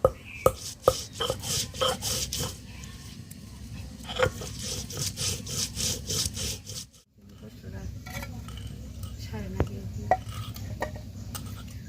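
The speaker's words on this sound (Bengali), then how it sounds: "জিরে আর গরম মশলা বাটবো।" Cumin and garam masala being ground by hand for a village chicken curry cooked outdoors: repeated close scraping and knocking strokes in an uneven rhythm, a short pause midway, then softer continued grinding with occasional taps.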